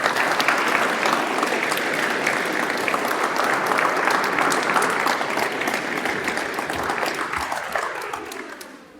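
A symposium audience applauds to welcome a keynote speaker, Paul Steely White, with sustained dense clapping from a large crowd that fades out near the end.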